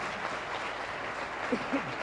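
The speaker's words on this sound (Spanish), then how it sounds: "¿Cuánto le dan un aplauso al Señor?" Congregation in a church service applauding for the Lord, a soft, diffuse patter of many hands with no single claps standing out. A brief voice breaks through near the end.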